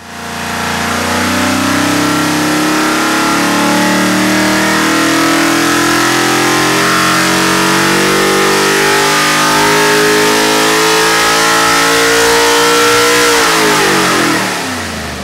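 A 427 cubic-inch LSX V8 on an engine dyno climbs in a long, loud, continuous pull toward 7,000 RPM, its pitch rising steadily before dropping off sharply near the end as the throttle closes.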